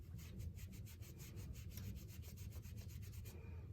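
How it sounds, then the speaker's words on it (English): Rapid, even rubbing of a buffer over a braided polymer clay bracelet, a steady close scrubbing rhythm of about a dozen strokes that stops near the end. "And you just buff it up, and it comes out with a nice little satin shine to it."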